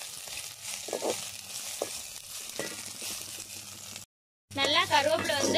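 Fresh curry leaves sauté in a pan, giving a soft sizzle broken by a few stirring knocks. A brief pause follows, then a louder, bubbling fry with talking over it.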